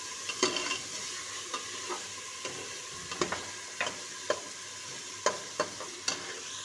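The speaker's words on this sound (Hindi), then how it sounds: "हमारा मसाला अच्छे से भून गया है" Masala with ginger paste frying in a pan, a soft steady sizzle broken by repeated sharp scrapes of a spoon stirring through it, close and moderately quiet with no talking.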